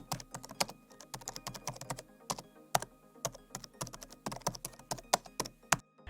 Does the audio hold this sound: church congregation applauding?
no